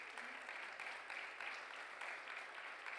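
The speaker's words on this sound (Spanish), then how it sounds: "Un aplauso al Señor por él." A church congregation claps in faint, continuous applause during a sermon service, the sound even and distant throughout.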